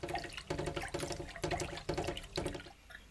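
Tap water runs and splashes as millet and buckwheat are rinsed in a sink, pouring in regular swells roughly every half second at moderate loudness, with no speech.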